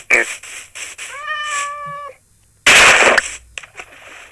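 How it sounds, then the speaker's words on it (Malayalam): A Minecraft kitten gives a drawn-out, high meow, with other short game sounds and a loud burst of noise around it. "പൂച്ചക്കുഞ്ഞ്"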